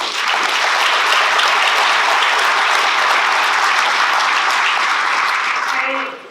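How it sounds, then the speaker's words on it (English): Sustained audience applause after a keynote presentation, a dense wash of clapping from a large crowd that holds steady for about six seconds, then fades out at the end. "A round of applause for Caroline."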